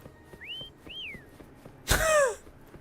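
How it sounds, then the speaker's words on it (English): Whistling in the video game Wuthering Waves: two short rising whistled notes, then a louder burst with descending swooping tones, heard close over a quiet game background. "Try whistling."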